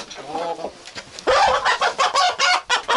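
A backyard flock of hens with a young rooster about five months old clucks close by, with a quiet stretch giving way to a louder run of repeated, choppy calls.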